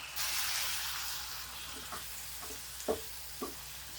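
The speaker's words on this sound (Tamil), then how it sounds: "தக்காளி நல்ல எண்ணெயிலே வதங்கட்டுங்க" Chopped ripe tomatoes sauté in oil for poori masala: a soft sizzle swells at first, then settles into a quiet hiss broken by a few sharp spatula scrapes, fairly faint and close.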